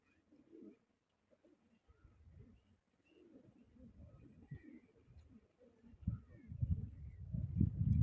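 Pigeons coo in low, soft, throaty bursts, sparse at first and then building into louder, overlapping cooing near the end, with faint chirps.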